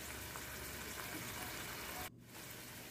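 Beetroot poriyal stir-fry cooks in a pan, a steady, faint sizzle and hiss that drops briefly near the end before continuing.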